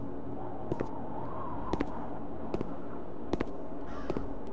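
A bird caws a few times in the Root of Evil video game, with four short harsh calls spaced about a second apart over a steady low ambient hum.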